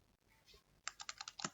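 Keystrokes on a computer keyboard entering a VPN password for remote PC access, a rapid run of about eight crisp clicks close to the mic after a faint quiet start.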